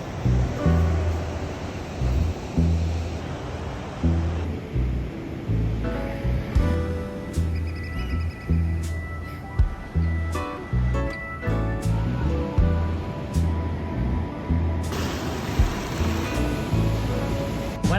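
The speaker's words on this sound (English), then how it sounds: "I can hear the ocean. Waves to our right." Ocean surf breaks on a beach in Olympic National Park, a broad continuous roar with rhythmic surges and wash, fairly close and loud, with occasional wind rumble and faint handling noise.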